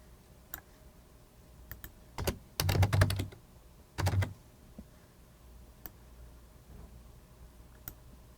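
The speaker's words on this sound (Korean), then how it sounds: "이진아의 지급액을 수정 입력해 보도록 하겠습니다" Keyboard typing while daily-wage payroll figures are entered in Douzone Smart A accounting software: short bursts of quick key clicks around two to three and four seconds, with scattered single taps, close and fairly quiet, no talking.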